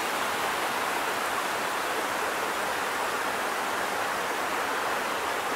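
Canonteign Falls waterfall roars in a dense, steady hiss of falling water. It is loud and unbroken throughout, with no other sounds.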